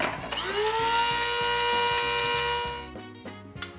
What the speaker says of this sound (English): So, we have a spice grinder, and I'm just cutting them to help them get started.